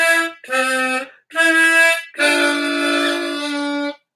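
A tremolo harmonica plays a short practice phrase of four held, wavering notes separated by brief breaths, the last note sustained longest, close and clear with no talking.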